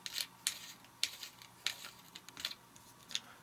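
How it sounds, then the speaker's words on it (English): Screws are taken off battery terminals while setting up a home solar power system, with a series of small, sharp metallic clicks and ratcheting ticks, close but faint, about five or six in a few seconds. "Now I'm going to take off my screws and set them on top of the battery near the terminal"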